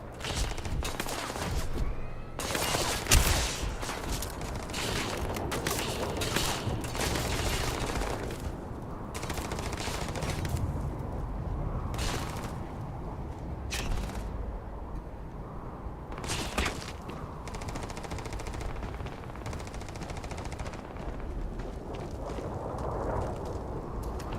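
Rapid automatic gunfire from the space shooter Starfield rattles on almost without pause, dense and loud bursts layered over heavy booming impacts throughout.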